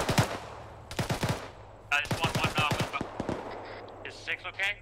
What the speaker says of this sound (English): I thought I heard AK fire on me.